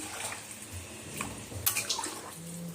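Water splashes and pours into a pan of paneer and peas curry, a soft gurgling stream with a few louder splashes partway through.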